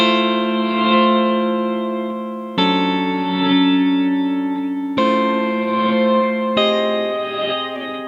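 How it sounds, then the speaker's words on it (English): Sustained electric guitar chords through a large pedalboard swell and ring with heavy reverse-delay and chorus effects, four long washed-out tones changing every couple of seconds. "It's got a reverse delay on here."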